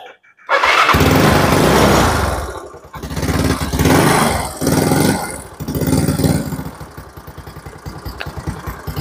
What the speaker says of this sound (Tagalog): So gumana na yung aking motor.